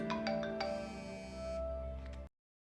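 A mobile phone rings with a bright, tonal chiming melody, heard alone and close, which cuts off abruptly after about two seconds.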